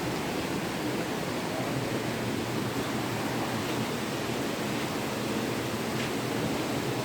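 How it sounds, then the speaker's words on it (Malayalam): A river rushes past a Himalayan cave and temple, a steady broadband roar of flowing water that stays constant and fairly loud throughout, with no voices. "എൻ്റെ അടുത്ത് ഒരു നദിയും പായുന്നുണ്ട്."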